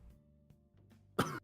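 A single short, throaty cough near the end, close and fairly loud, after a quiet stretch with faint low background noise.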